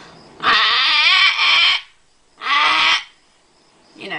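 A voice imitates macaw squawks, giving two long, loud, harsh calls and then the start of a third, with no other talk around them.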